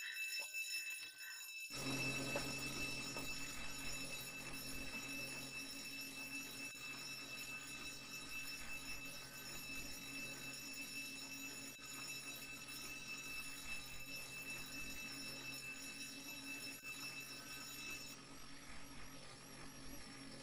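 An alarm rings steadily during a jewellery store robbery in the ER:LC video game, a continuous faint high-pitched ringing that runs almost the whole time without speech.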